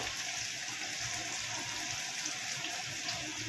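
Water pours steadily into a pan of spices for a chicken dish, a continuous close gushing hiss lasting the whole few seconds without a break.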